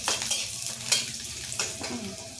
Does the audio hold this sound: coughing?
no